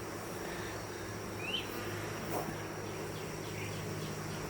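Honeybees humming around an open hive, a faint continuous buzz with a few individual insects briefly louder as they pass close.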